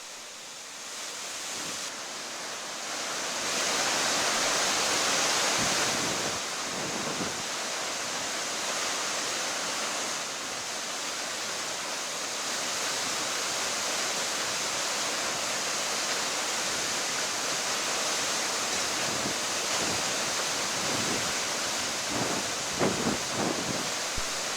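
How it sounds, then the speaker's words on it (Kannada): Water released through the crest gates of Kabini Dam into the river, a loud, continuous roar of falling and rushing water that holds steady with slight swells throughout. "ಕ್ರಸ್ಟ್ ಗೇಟ್ಗಳ ಮುಖಾಂತರ ನದಿಗೆ ನೀರನ್ನು ಹರಿಬಿಡ್ತಾ ಇರುವಂತಹ ದೃಶ್ಯ"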